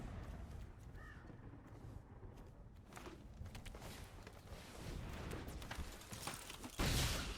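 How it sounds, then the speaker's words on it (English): A crow caws outside, with creaking calls repeating at a moderate distance over a quiet background, the sound swelling briefly toward the end. "Bird's annoying."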